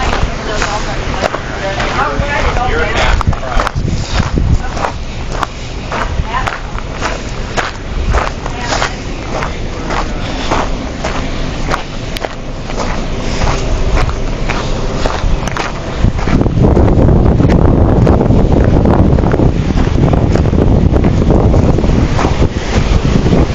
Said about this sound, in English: That's the other side of the waterfall